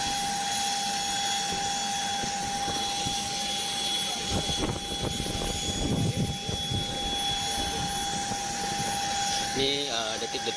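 An aircraft engine hums steadily with a constant high whine while a police chief is loaded aboard for a medical flight, the engine noise running throughout beneath scattered voices and bustle nearby.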